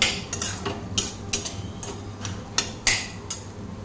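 A spoon chops and breaks up egg bhurji in a pan, making a quick series of light metallic taps and scrapes, roughly eight distinct clinks over a faint background hiss, close by and with no speech.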